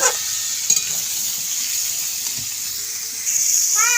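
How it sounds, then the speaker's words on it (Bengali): Steady sizzling of vegetables frying in a pan, with occasional scraping clinks of stirring; continuous and fairly close, no voices. "লবণটাকে এবার আমরা দিয়ে সবজিটাকে ভেজে নেবো"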